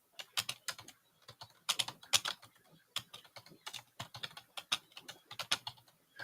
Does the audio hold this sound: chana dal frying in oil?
no